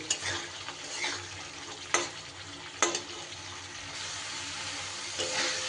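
Potatoes with spices sautéing in a pan: a low, even sizzle with soft stirring scrapes and two or three crisp utensil knocks, near but quiet, with no one speaking.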